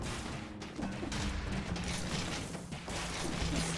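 Ceiling turret in the Dead Cells video game firing continuously, a dense rattling barrage of mechanical shots with a steady hum underneath, loud and sustained throughout.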